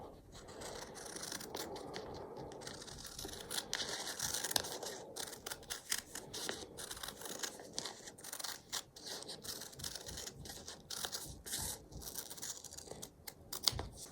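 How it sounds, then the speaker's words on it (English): Scissors cut fabric into a rounded pebble shape for a scrappy sea-glass cushion, a close, quiet run of crisp snipping and crunching blade strokes in steady succession with no talking. "I'm just cutting a kind of pebbly shape"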